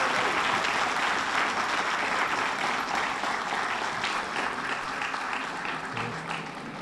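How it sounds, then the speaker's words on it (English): An awards-ceremony crowd applauds the police chief at a police department event, with sustained, even clapping filling the room and fading slightly toward the end. "Give Chief a round of applause. Big round of applause."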